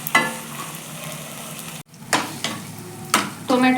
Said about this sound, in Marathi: आपण त्यामध्ये टोमॅटो ॲड करूया. टोमॅटो पण चांगलं मऊ होईपर्यंत याला असंच परतून घेऊयात.